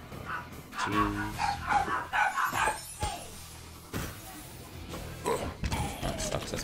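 Dogs bark and yip in repeated, uneven bursts within the Legend of Keepers video game, mixed with whimpers and other game effects at a moderate level.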